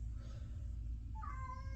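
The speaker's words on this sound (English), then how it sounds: "And that's my cat in the background," A cat meows once in the background, a short rising cry late on, quiet and distant over a low steady room hum, with no talk.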